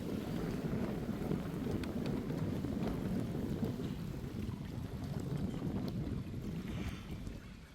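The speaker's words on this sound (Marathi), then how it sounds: "सुंदर अशी हवा सुटली." Wind blowing over a boat on the water on the Konkan coast, a steady rough buffeting gust noise across the microphone with faint water sounds, continuous and close with no talk.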